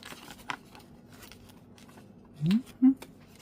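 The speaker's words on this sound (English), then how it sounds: "We need a clip with my scissors, like we usually do." Scissors snip through paper for a handmade junk journal: a couple of short, close cuts land near the end, after a stretch of faint rustling.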